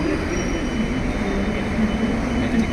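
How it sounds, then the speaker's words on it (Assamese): A metro train arriving at a station rumbles steadily with a low, continuous roar and faint wheel hum, constant in loudness and with no voices. "ষ্টেচন পোৱাৰ লগে লগে তাত ট্ৰেইন আহিব"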